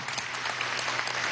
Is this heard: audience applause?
yes